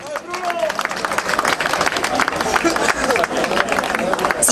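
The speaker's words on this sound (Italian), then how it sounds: "Un applauso comunque." Crowd clapping and applauding at a sports club celebration for a promotion, a dense burst of applause mixed with chatter and background voices.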